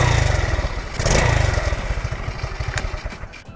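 A Honda Gorilla motorcycle engine, restarted after stalling, runs close and loud, a brief rev giving way to a lumpy, pulsing idle that thumps in a quick steady rhythm.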